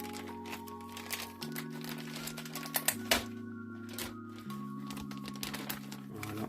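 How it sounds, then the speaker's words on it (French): An MSI B450 Gaming Plus MAX motherboard is unboxed from its packaging, with quiet crinkling and tapping of cardboard and plastic over a steady low hum and a few sharper handling clicks. "Je vais la déballer tout de suite."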